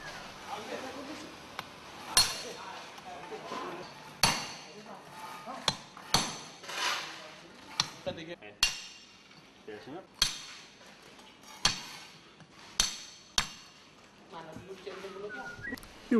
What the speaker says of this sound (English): with a heavy hammer and a special chisel called a bolster, like this